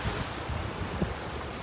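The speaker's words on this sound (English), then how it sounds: "Definitely some bigger waves out here." Ocean waves at high tide roll in around John's Pass in big seas, a soft continuous wash of surf mixed with low wind rumble, fairly distant and steady with no talking.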